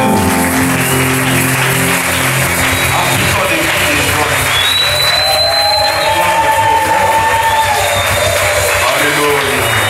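A church congregation applauds and cheers to acclaim the Lord, a dense steady wash of clapping with whoops and shouts layered over continuous crowd noise, loud and sustained throughout.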